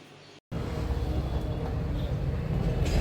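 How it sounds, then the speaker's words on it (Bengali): Steady low rumble of a train moving along the tracks near Kolkata station, loud and close, with a brief dropout near the start. "ট্রেন এখন কলকাতা স্টেশন এর প্রায় কাছেই চলে এসেছি"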